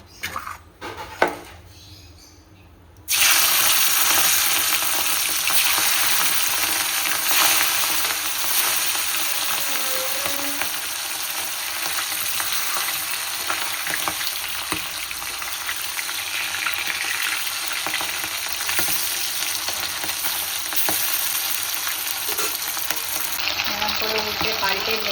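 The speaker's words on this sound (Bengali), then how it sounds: "এখানে মাছগুলো ভেজে তুলে রাখলাম।" Fish fry in hot oil in a home kitchen, a loud, steady, close sizzle that starts abruptly after a few quiet seconds and hisses on continuously.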